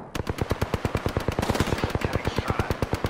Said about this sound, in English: People are taking pot shots at me.